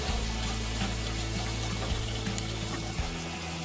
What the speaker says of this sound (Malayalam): ഇനി നമുക്കിതിലേക്ക് വെള്ളം ചേർത്ത് കൊടുക്കാം